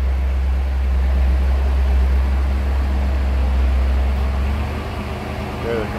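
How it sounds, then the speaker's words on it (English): A stock 1984 Chevrolet Camaro Z/28 V8 idles with a steady, deep low rumble that stays close and even, then eases slightly near the end. "you'll kind of hear the idle of the engine change."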